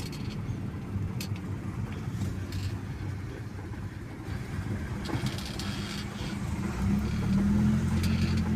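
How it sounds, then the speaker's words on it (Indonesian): A logging truck driving on a road ahead through a plantation forest area in South Sumatra, heard as a steady low engine drone and road rumble that swells louder toward the end, with no talk. "truk di depan ini, kendaraan logging ya teman-teman"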